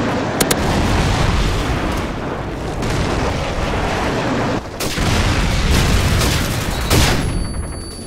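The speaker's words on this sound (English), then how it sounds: "Friendly airstrike on the way." A Call of Duty 4 multiplayer airstrike brings a heavy barrage of explosions, loud rumbling blasts that run almost without a break, with a brief dip partway through and sharp cracks at the start.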